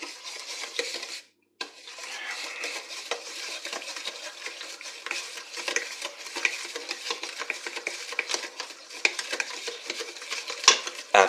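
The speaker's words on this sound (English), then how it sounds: "Now what we're going to do is mix. Just like this." Eggs mixed into sugar and butter for double chocolate cookies make a busy, continuous scraping and clinking of a utensil against a bowl, close and moderately quiet with a brief pause early on, no talk.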